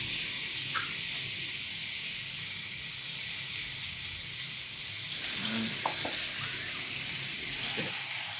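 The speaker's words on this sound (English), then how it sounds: "Now finally, I'm ready to cook my steak." Steak sizzling on a grill gives off a steady, loud hiss and crackle throughout, with a few faint knocks.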